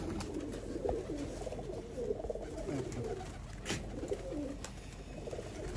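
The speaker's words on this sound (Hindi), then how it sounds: "ये जी मेन बड़ा ब्रीडर शर्मीला कबूतर है।" Large, shy breeder pigeons coo in soft low murmuring phrases, close by but faint, repeating irregularly over a quiet background with a few sharp clicks.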